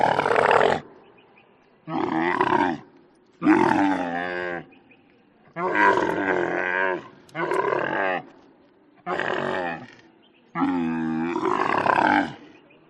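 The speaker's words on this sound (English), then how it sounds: "Camel," A camel's vocalizations come as a series of separate bursts, each about a second long with short gaps between them, loud and close. The calls are harsh, roaring groans with a moaning, cattle-like quality.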